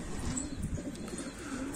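Pigeons coo softly in low, throaty, repeated murmurs, close by in a loft, with faint rustling and occasional higher chirps.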